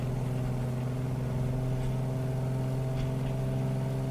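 Steady, droning hum of a Beechcraft aircraft engine in Microsoft Flight Simulator, a constant mid-low tone held evenly throughout with no talk over it.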